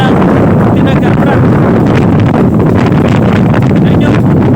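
Strong, steady wind buffets the microphone on the open Apao Rolling Hills in Tineg, Abra, a loud continuous roar with gusty rumbling throughout.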